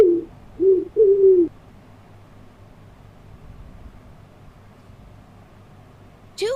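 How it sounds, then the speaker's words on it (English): A pigeon coos three times in quick succession, close and clear, then falls silent over faint background hiss until a short sound at the very end. "Pigeon."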